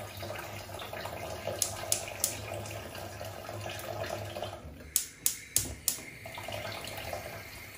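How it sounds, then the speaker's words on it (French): Tap water running steadily to rinse veal meat in a kitchen sink, a continuous close splashing hiss with a few sharp clinks and knocks scattered through it. "On fait la viande sous l'eau pour retirer le sang, soit bien rincé."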